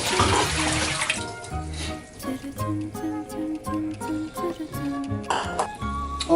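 Cooked naengmyeon cold noodles are rinsed under a running kitchen tap, with water splashing steadily into the sink alongside clinks and background music.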